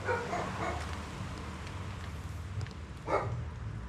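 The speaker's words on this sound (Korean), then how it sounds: "멍멍이 소리 들리고" Dogs barking somewhere in a ruined building in a Balkan town: a couple of faint, distant yelps early on and another near the end, over quiet outdoor ambience.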